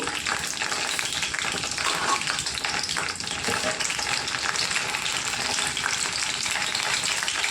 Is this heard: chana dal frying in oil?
yes